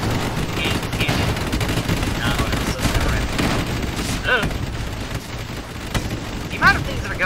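Dense missile and cannon fire from an airship battle in the strategy game Airships: Conquer the Skies, a constant wash of rumbling explosions and rapid gunfire with sharper whistling launches, steady and loud throughout.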